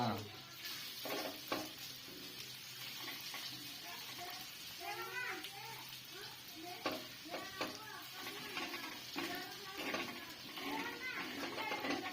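Chicken pieces frying in masala in an iron pan, with a continuous sizzle and intermittent scraping stirs, close, while people talk and children's voices sound in the background.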